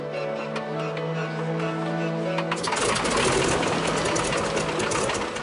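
A North American Harvard propeller aircraft engine runs: a steady low rhythmic drone at first, then the engine swells abruptly into a loud, broad roar that stays close and constant.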